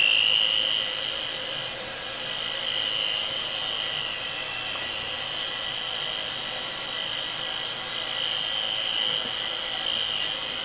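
An electromagnetic pump, switched on, runs with a steady high-pitched electrical whine and hiss, constant and fairly loud throughout with no voices.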